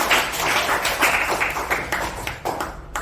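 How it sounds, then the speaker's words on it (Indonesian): Classmates clap in a classroom, a loud, dense patter of many hands that keeps going steadily for a few seconds. "Berikan tepuk tangan kepada teman-teman."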